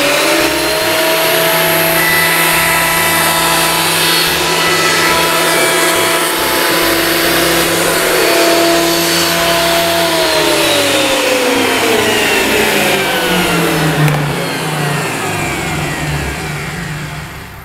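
A wood thicknesser runs with a board feeding through, a loud steady motorised roar and whine that shifts pitch partway through as the cut progresses, then begins to wind down.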